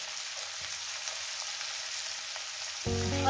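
Onions frying with dried fish in a pan by a riverside, a continuous soft sizzle throughout that grows louder with a low rumble near the end.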